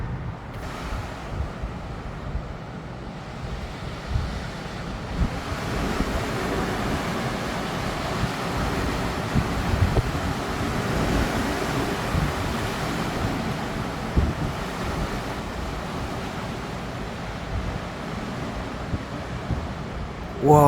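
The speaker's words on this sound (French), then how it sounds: "Je comprends pas comment ça se fait que le vent est toujours aussi violent" Strong Storm Nils gusts roar through Bordeaux in a continuous rushing wind that buffets the microphone and swells and eases for the whole stretch.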